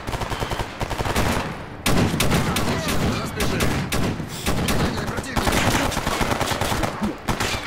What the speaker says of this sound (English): Okay, they're shooting me now?